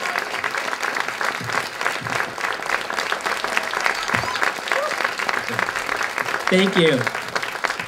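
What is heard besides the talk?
audience applause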